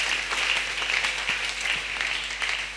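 A church congregation applauds in a steady, dense wash of clapping that keeps going for the whole stretch, with no pause and no clear voice on top.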